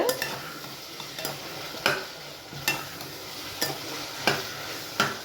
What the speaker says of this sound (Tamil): வெங்காயம் தக்காளி நல்லா வதங்கட்டும்